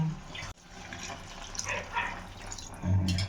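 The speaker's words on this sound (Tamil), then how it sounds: "வாட்டர் ஊற்றியாச்சு." Water splashing and pouring into a pot, a soft irregular liquid rush with a few bumps and a brief pause, fairly quiet.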